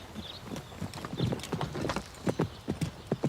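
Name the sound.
horse hooves clip-clopping while being ridden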